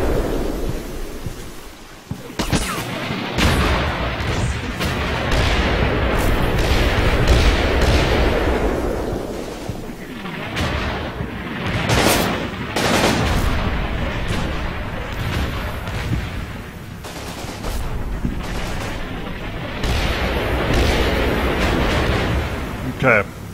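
Mortar and artillery fire in the World War II game Combat Mission, a continuous barrage of heavy booms and rumbling blasts with sharper cracks scattered throughout, loud and sustained with a voice talking over it.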